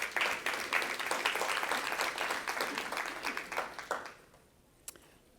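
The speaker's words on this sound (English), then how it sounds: "give yourself a round of applause for being that solution" Audience applause at a conference session, a moderately distant crowd clapping steadily for several seconds before tapering off to quiet with one stray clap.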